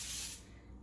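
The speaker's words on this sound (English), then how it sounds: "I'm gonna spray that also" A short burst of baking spray hisses from a can onto parchment paper lining a cake pan, loud at the start and then tapering off, with no voices.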